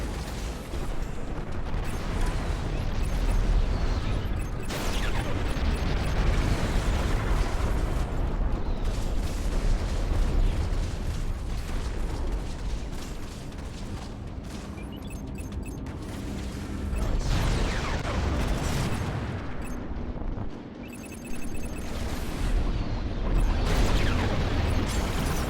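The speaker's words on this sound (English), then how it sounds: "Apparently Corvettes launch torpedoes." Torpedoes launched by corvettes burst into a continuous roar of explosions and heavy booms during a space battle in Strike Suit Zero, loud and dense throughout with layered rumbling blasts and mechanical clatter.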